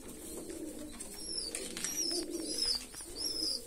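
Pigeons, including an Andalusian and a kite breed, cooing softly in a loft, with several low repeated coos and faint higher chirps overlapping at moderate distance.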